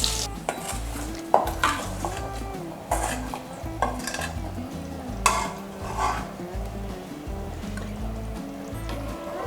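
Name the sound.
tempered onion mixture added to curry, sizzling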